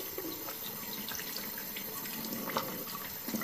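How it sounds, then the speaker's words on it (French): Water splashing as a face is rinsed with clear water at a sink, a steady close wash of trickling and dripping with no talk. "on rince à l'eau claire"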